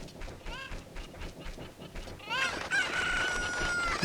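A chicken in Zelda: Ocarina of Time squawks and clucks in rising calls that build into a loud, sustained crowing cry, close up over faint background game sounds.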